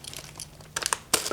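Painter's tape and a plastic bag wrapped around metal clamps are ripped away, giving crinkly, crackling tearing bursts in short uneven clusters, loudest near the end.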